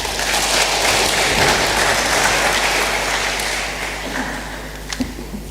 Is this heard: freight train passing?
no